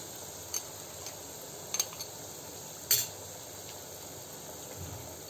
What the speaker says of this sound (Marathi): आपण आता त्याच्यामध्ये कांद्याची पेस्ट घालून घेऊ, मग आलं लसूण पेस्ट